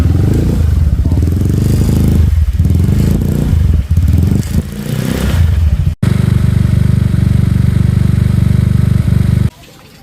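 A motorcycle engine running rough on a failing spark plug idles loudly and unevenly close up, with a sputtering, choking throb that breaks off briefly and then settles into a steadier drone before cutting out.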